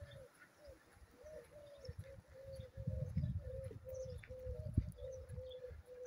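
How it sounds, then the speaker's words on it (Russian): Turtle doves coo in a repeated, soft rhythmic pattern from a moderate distance in the village of Bolshevik, Ipatovsky district, with low outdoor rumble and faint background noise underneath. "Это горлица птички."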